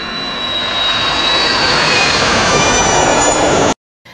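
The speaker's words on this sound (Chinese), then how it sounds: "逐渐过渡到一架飞机由远到近的飞过来的声音" AI-generated sound of an airplane approaching from a distance: a loud, continuous broadband engine roar with a bright, slightly harsh high end. It holds steady and close, then cuts off abruptly near the end, with no voices.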